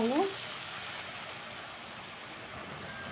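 Steady, dense crackling sizzle of potato strands frying in hot oil, continuous and fairly close, with a short whistling tone right at the start.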